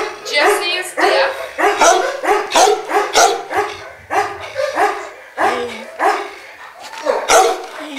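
Dogs at an animal sanctuary bark in a fast, loud, continuous volley, several overlapping barks and yips close by for the whole stretch, with a brief whimper-like tone partway through.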